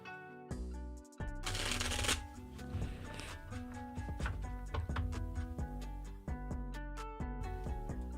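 A deck of tarot cards is shuffled close up, with rapid riffling bursts and repeated sharp card snaps in quick succession, fairly quiet overall.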